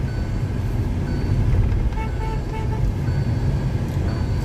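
Hyundai i20 BS6 petrol with a Turbo GDI engine and DCT transmission, driving steadily with a continuous low engine drone and road rumble, steady and close throughout, a faint shift change near the middle.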